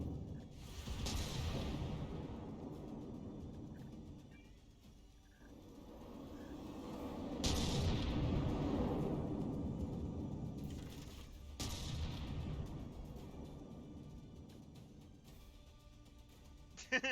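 Explosions and battle noise from tank combat in the vehicle-building game From The Depths: several broad booming bursts, one at the start and others near 7.5 and 11.5 seconds, over a steady rumbling background, with no talk.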